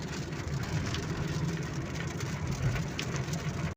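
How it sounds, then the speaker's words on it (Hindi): Steady heavy rain drums on a surface close by during a drive on Islamabad roads, a constant hiss over a low engine rumble, continuing unbroken until it cuts off abruptly. "बारिश ज़ोरों शोर से जारी है"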